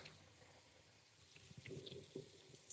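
Tap water runs steadily into a kitchen sink over drained canned navy beans, a soft continuous splashing close by, with faint clinks and knocks toward the end and no speech.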